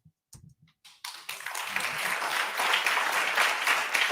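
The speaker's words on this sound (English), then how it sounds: "And they clap." Studio audience applause on a television talk show swells after a second of near silence and a few faint sounds, then holds as a steady, loud, dense crowd clapping.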